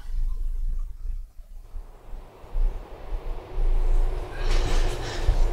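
Train arriving at a station in Grand Theft Auto IV, a low rumble of rolling wheels that builds and grows louder, ending with bright hissing and squealing brakes as it draws in.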